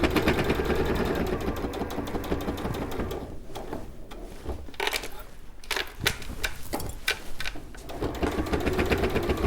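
A sewing machine zigzag-stitches fabric hexagons together in a loud, close, continuous mechanical whirr, with brief uneven pauses in the middle and faint voices underneath.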